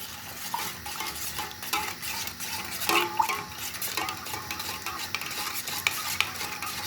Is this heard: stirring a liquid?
yes